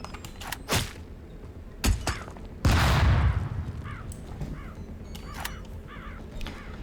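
Flashbang grenade detonating in Tastee: Lethal Tactics, a sharp loud bang with a noisy ringing tail, preceded and followed by scattered crisp gunshot-like cracks.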